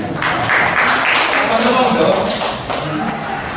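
An audience at a teachers' gathering gives Pak Rudi a short round of applause, a loud, even wash of clapping that holds steady and then eases slightly near the end.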